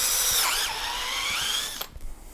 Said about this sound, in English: drill a couple of holes